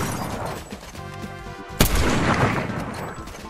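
A burst of Fortnite gunfire with one sharp, loud shot standing out midway, set against rumbling ambient noise and faint distant pops.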